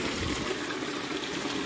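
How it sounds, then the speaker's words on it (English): Water runs steadily out of a gray pipe on a DIY barrel pond filter, a constant close trickling and splashing stream with no breaks and no voices. "Water flows back up and goes out this pipe."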